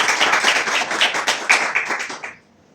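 An audience at a Christian Lent and Ash Wednesday sermon claps, a dense close burst of applause lasting a couple of seconds before cutting off sharply to near silence.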